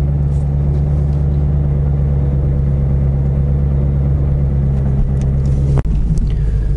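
A manual car rolling slowly in reverse without gas gives a steady low engine rumble and idle hum throughout, ending with a brief knock as it stops.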